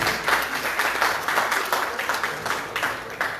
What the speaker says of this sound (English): please give a big round of applause for these guys, for these gentlemen